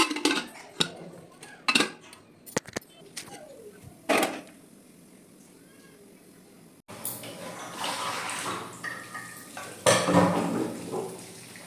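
Lentils being rinsed in a pot: sharp metallic clatters and knocks at first, then a busier stretch of sloshing water and swirling grains against the metal, close by.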